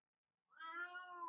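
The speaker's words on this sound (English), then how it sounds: "Oh, yeah, meow again." A cat meows once in a drawn-out, rising-and-falling cry, close and clear after a brief silence, with no talking.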